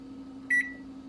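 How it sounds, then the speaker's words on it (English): A single short electronic beep from an oven control panel as a cold oven is switched on, clear and close over a steady low appliance hum. "I just put it in a cold oven and then I turn it on"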